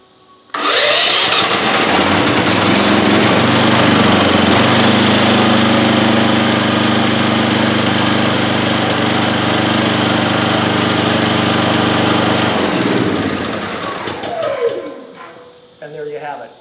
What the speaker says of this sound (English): We'll go ahead and turn the master switch on, and then we'll push the start button